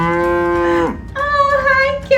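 A cow lowing loudly and close, one long sustained moo that drops at the end, followed by a second shorter moo, with no speech.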